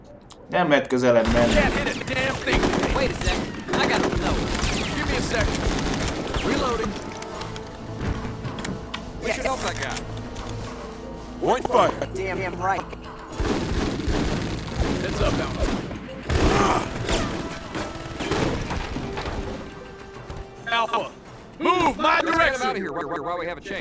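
Rapid gunfire rattles through a Full Spectrum Warrior squad battle, with dense volleys, heavy booms and thuds that come in waves, pause briefly and resume, while voices speak over the fighting.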